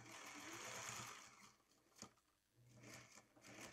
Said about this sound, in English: I'm going to put that under the sewing machine, just like so.